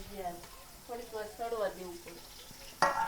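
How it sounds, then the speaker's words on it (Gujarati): Onion tempering sizzles in a pan for a rice dish, a soft steady frying hiss running beneath people talking, with one sharper clatter near the end. "અટાણે વઘાર ને ઓલું બધું ડુંગળી ને જે હોય એ નાખી દીધું અંદર"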